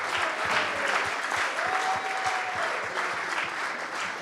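Steady room applause at a sales leader awards ceremony in a grand hotel venue, moderately loud continuous clapping with faint crowd murmur and a brief tonal whistle through the middle.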